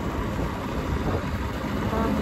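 A 27-year-old motorbike engine idles close by, a continuous low rumbling churn that holds steady throughout the short stretch, with no talk over it.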